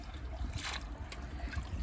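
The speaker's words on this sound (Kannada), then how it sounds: "ಫುಲ್ ಹಂಗೆ ನೀರು ಹರಿದೋಗೈತದ" Water trickling and flowing away during a natural wash, a soft steady burble close by with a brief brighter splash in the middle, no voices.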